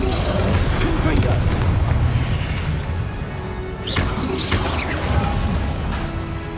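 Booming magical blasts and crashes from spellcasting combat in Hogwarts Legacy, dense and loud throughout, with sharp impacts standing out amid a voice calling spells.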